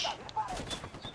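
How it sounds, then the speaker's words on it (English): Rapid bursts of mounted machine gun fire crackle through a military video game battle around a tank, sharp repeated reports layered with other gunfire and a voice talking over them. "Oh dear god, that's a mounted machine gun."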